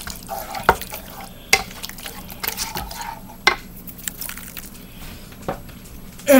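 Brown sugar gets stirred into a sloppy joe mixture, with repeated scraping and knocking of a utensil against the pan over a faint background hiss.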